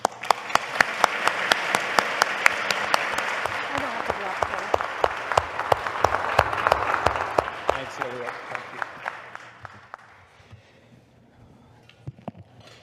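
A conference audience applauds as Goldy Hyder and Annette come onto the stage, sustained clapping with some sharp individual claps that dies away toward the end, with a voice speaking over it.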